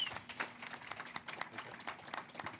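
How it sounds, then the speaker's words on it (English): A crowd claps in a scattered burst of applause, moderately loud and irregular, with no clear speech over it. "round of applause"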